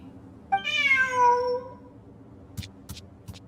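A cat meows in the Ruins Explorer game, a single clear, rising-then-falling meow lasting about a second, followed by a few faint soft clicks against a quiet, steady background hum.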